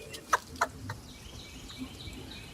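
Outdoor bird calls, with two sharp bright chirps early and a few fainter calls after, over a quiet background with distant rain.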